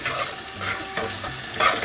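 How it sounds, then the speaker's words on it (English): Canned sardines in tomato sauce, seasoned with salt and pepper, being stirred in a pan: a soft scraping swirl over a light sizzle, steady and close, with no voices. "moving, stirring, all of that goodness there."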